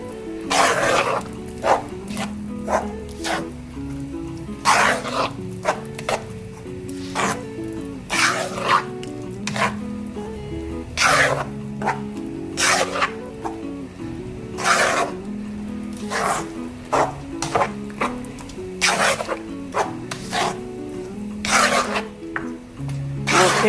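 Cream and egg mixed together with a spoon for a salmon and vegetable quiche: repeated rhythmic scraping and clacking strokes against the bowl, close and fairly loud, with a low background hum throughout.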